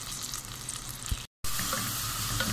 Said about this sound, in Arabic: كده حطيت البصلة وهفضل اشوح فيها لغاية ما تدي لون ذهب